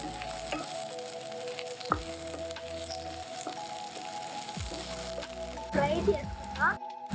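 Onions frying in two tablespoons of hot oil, a soft continuous sizzle under a steady tonal music bed, with a brief burst of louder clatter near the end.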